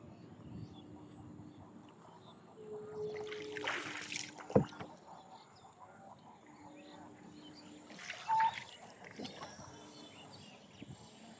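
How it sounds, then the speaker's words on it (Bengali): A rowboat moves across floodwater with soft paddle splashes and creaks, heard faintly under background voices and a few louder knocks. "আমরা নৌকাতে বেড়াইতেছি"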